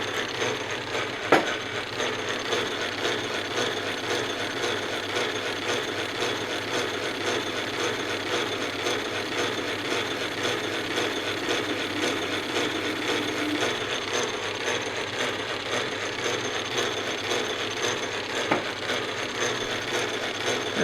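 An old Atlas lathe cuts a thread-relief groove in an oiled bolt, a continuous whirring mechanical drone with faint gear ticking and an occasional sharp click, steady throughout.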